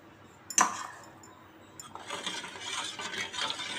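A spoon stirs sugar into rose milk in a glass, with a sharp clink of metal on glass, then soft repeated swirling and faint tapping close by.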